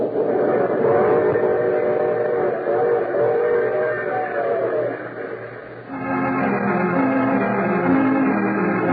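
Train running in a radio drama sound effect, a steady rumbling clatter of rail cars carrying on continuously with a shift in tone partway through, loud and close with no voices.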